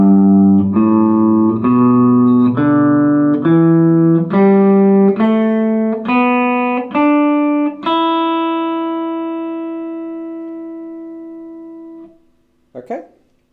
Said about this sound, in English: We're just playing two minor pentatonic scales on top of each other.